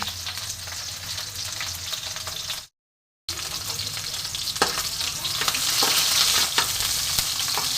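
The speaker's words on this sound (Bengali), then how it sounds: "কাঁচা টমেটোটা আমি কড়াইয়ে দিয়ে দিয়েছি। এটাও আমি একটু ভেজে নেব।" Raw tomato frying in a wok gives a loud, close sizzle with brief stirring scrapes; a short silent gap breaks it, then the hiss grows stronger.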